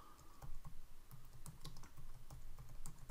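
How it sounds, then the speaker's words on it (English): Typing on a computer keyboard, a steady run of close, quick key clicks with uneven rhythm and no voices. "I'm going to type in my main idea"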